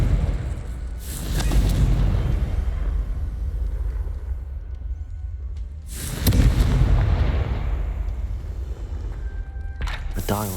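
Confringo explosive spell blasts in Hogwarts Legacy: two loud, booming broadband explosions about five seconds apart, each with a rumbling tail, over game ambience and a short clicking effect near the end.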